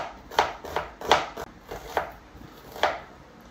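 A knife chops through onion on a board for a sardine topping, with about six crisp, separate cuts spaced unevenly and heard up close, and no talking.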